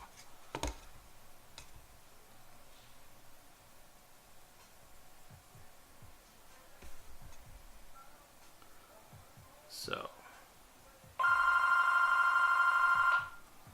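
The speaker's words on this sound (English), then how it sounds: "oh boy, there's the house phone." A house phone rings in a quiet workroom during N scale model terrain making: a loud electronic ring lasts about two seconds near the end, after a stretch of faint clicks and small handling noises.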